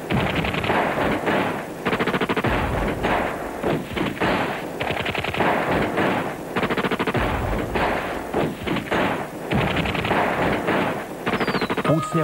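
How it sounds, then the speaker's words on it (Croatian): Rapid bursts of gunfire and explosions from a late-1990s Croatian television Christmas public service announcement, loud, dense volleys and rattling automatic fire filling the whole stretch with brief gaps. "Pucnjava i eksplozije nisu dio blagdanskog veselja."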